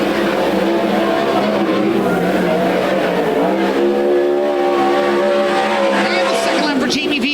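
A World of Outlaws sprint car on a qualifying time-trial lap at Willamette Speedway, its engine roaring loud and sustained with rising and falling pitch, while a voice talks over it.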